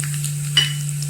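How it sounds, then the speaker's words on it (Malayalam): Mustard seeds, fenugreek and dried red chilies hit hot oil for a Kerala tempering, giving a steady crackling sizzle with a brief sharper pop, alone without voices. "ചൂടായ എണ്ണയിലേക്ക് കടുക് ചേർത്ത് കൊടുക്കുക."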